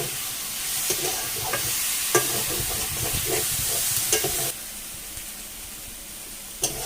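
Taro root (kochur mul) is sautéed in a pan with light spices for a vegetarian dish: a close, even sizzle punctuated by repeated scraping stirs, then a quieter hiss after a few seconds and one last sharp stir.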